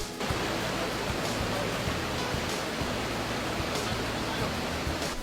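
Falls number 7 of the 13 Falls in DRT, Bulacan, pours in a constant dense roar of rushing water, steady and enveloping with no talking.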